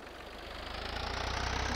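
A Ford 3600 tractor in Farming Simulator 22 drones with a steady low engine rumble and a rapid throbbing pulse, holding constant and growing slightly louder over a short stretch, with no voices.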